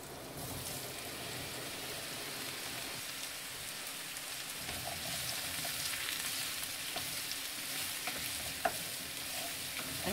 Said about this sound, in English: Fry off the pumpkin. So the oil's nice and hot.